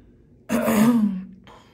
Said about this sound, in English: I don't know why I can't clear my throat right now.